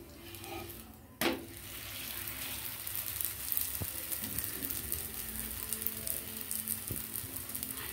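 A coconut holige fries in a little oil in a pan, giving a continuous close sizzle with faint crackles and an occasional clink or scrape of a utensil.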